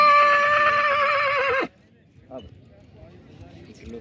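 A Nukra horse at the Nagaur livestock fair gives a loud, close, drawn-out neigh that cuts off abruptly, followed by quieter crowd murmur and a brief voice.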